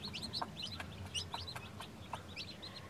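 Farm chickens cluck and give short calls in repeated bursts, close by, over a low steady background hum.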